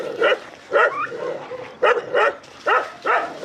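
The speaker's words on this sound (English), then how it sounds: "Look at this dog. This dog's been following us for a while." A street dog in Cuenca, Ecuador, barks close by in a quick series of about five loud, yelping barks with short gaps between them.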